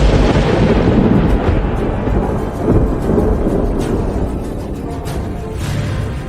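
Deep, loud thunder rumbles on without a break beside steady rain in a thunderstorm, the roar swelling and easing with no clear gaps and no voices.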